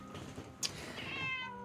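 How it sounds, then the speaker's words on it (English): A cat gives a single short meow partway through, close and fairly clear over a low, steady room background. "Give him a little meow."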